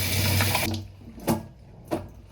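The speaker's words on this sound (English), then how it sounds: "First, wash your hands." Running tap water gushes steadily into a sink for under a second as hands are washed, then cuts off, followed by two soft, brief splashy bursts, close and alone.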